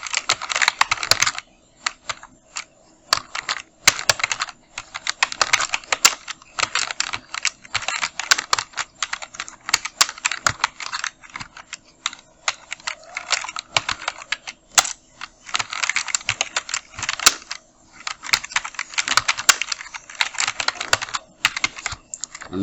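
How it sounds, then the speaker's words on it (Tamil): Steady fast typing on a computer keyboard while laying out a visiting card design in Photoshop, with dense, close clattering keystrokes in bursts and only short pauses. "டைப் பண்ணிடுவோம்."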